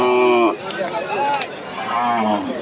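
A cow moos at the Kaitla cattle market with two drawn-out, close and loud lowing calls, one at the start and one near the end, over a background of market chatter.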